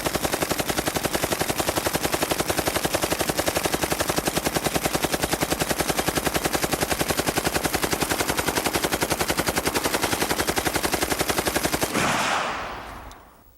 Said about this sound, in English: A little bit of the M60 here.